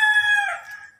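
A rooster crows once, close and loud, a strained harmonic call that holds and then trails off, with no voices.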